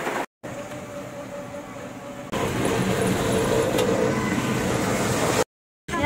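A car drives along in rainy weather. Its steady engine and road rumble grows louder partway through and is broken by a couple of brief silent gaps.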